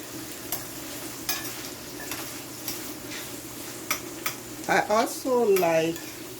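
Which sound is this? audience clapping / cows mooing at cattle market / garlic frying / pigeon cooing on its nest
garlic frying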